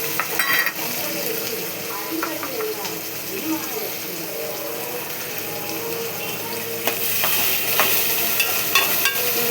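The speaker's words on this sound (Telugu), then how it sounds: "ఇది కొంచెం గోల్డ్ కలర్ వచ్చేదాకా వేయించుకోవాలి." Onion, green chili and curry leaves fry in hot oil with a steady sizzle and occasional stirring scrapes. The sound runs continuously and grows slightly louder toward the end, with faint talk in the background.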